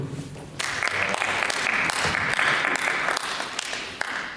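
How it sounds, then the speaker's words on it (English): A room full of people at a company insurance benefits presentation breaks into loud, steady hand clapping that swells after a brief pause and carries on evenly to the end. "don't often get a hand clap"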